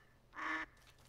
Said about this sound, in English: If you hear quacks, friendly.